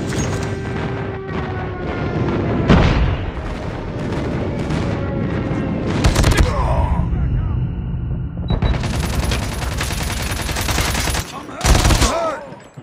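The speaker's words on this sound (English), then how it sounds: "Friendly airstrike incoming." Airstrike explosions and rapid gunfire in the Call of Duty 7 video game, with heavy booms and bursts of automatic fire in loud waves, while game radio voices call out over the combat.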